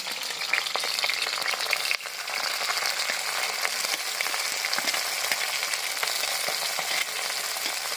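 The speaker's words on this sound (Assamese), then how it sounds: "এতিয়া মই লেটা ভাজিম" Leta, small fish, frying in hot oil with a steady dense sizzle and crackle throughout, a few brief sharper pops, no voices.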